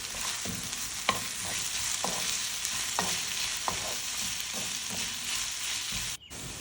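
Sliced onions with salt sautéing in a pan, giving a steady close sizzle broken by regular sharp scrapes of a spatula stirring, about one per second.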